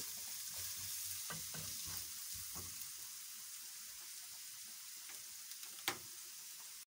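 Sweet potato fries frying in oil, a soft continuous sizzle with occasional stirring clicks and scrapes and one sharper tap near the end, low in level and with no voices.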